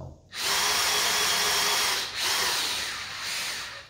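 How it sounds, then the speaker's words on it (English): An electric drill spins the shaft of a Volvo Penta IPS 1 hydraulic pump, a loud, close, steady whine running for several seconds with two brief dips in speed, alone without speech. "I can use an electric drill to spin it"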